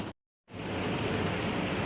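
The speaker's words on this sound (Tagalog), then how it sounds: "nawala ng power kasi sobrang lakas ng ulan." Heavy rain pours in a steady, loud broadband roar during a storm that has knocked out the power, cutting out briefly near the start before resuming and continuing unbroken.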